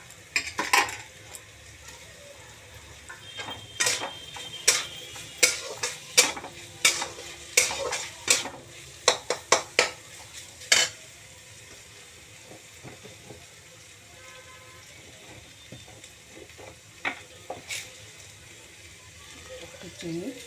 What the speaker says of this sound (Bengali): এবার চিকেনটা দিলাম।